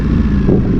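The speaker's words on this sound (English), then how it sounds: "I love the exhaust on that bike." Ducati Panigale V4S motorcycle exhaust at a supercar meet, a brief, steady and fairly loud low engine rumble close by with no talk.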